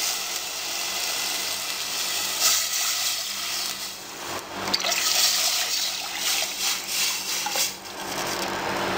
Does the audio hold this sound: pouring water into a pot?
yes